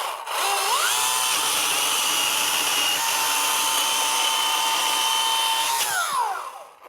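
A Milwaukee M18 battery top-handle chainsaw finishes a cut through a partly sawn log. Its motor spins up, holds a loud, steady, high whine for about five seconds, then winds down, close by with no voices.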